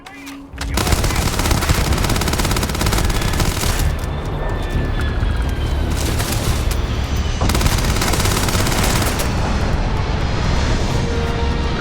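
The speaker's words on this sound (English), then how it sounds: "Open fire!" Sustained video-game gunfire in Starfield, dense bursts of shots and booming blasts filling nearly twelve seconds at high volume, with a brief quiet start before the firing erupts.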